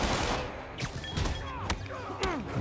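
Gunfire in the video game Marvel's Spider-Man: a scattered burst of sharp shots and impacts over a busy game soundscape with whooshing sweeps, moderately loud, without speech.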